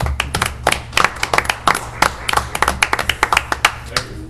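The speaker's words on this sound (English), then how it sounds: "I'd like to applaud you again," A single person claps hands at a township supervisors' meeting, a steady series of sharp, close, fairly loud claps over a low room hum, with no talk in between.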